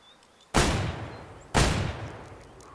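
Two sharp shotgun blasts ring out about a second apart while hunting waterfowl in a video game, each a loud crack trailing off into a short echoing decay over quiet background.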